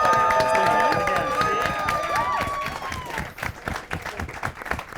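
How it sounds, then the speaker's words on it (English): Audience applause for the crew of a live stripped-down music show, a crowd clapping and cheering with shouts and whoops over it at first, then settling into looser, more distinct claps. "Applause for the people that work"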